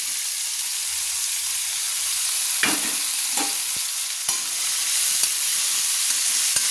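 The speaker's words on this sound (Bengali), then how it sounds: "আমি যে পেঁয়াজ কুচিয়ে রেখেছিলাম সেই পেঁয়াজগুলো দিয়ে দিচ্ছি" Chopped onions hit hot oil in a pan for chicken curry, giving a loud, steady sizzling hiss throughout, broken by a few sharp scrapes and clacks of stirring.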